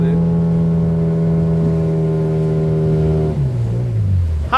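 A motorboat engine on the Mathuganga river drones loudly and steadily, then its pitch drops as it slows near the end, with a brief rising whine at the close.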